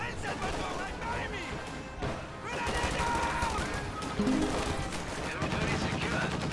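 Bursts of machine gun fire in a strategy video game, rattling in repeated volleys among other battle noise under steady talking.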